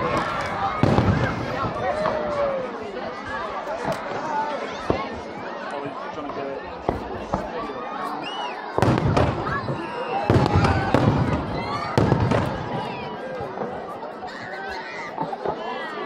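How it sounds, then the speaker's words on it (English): Fireworks burst over the seafront at the Blackpool fireworks championship, with repeated loud bangs and crackling volleys, while a crowd chatters and people talk nearby throughout. "And here we go, the fireworks."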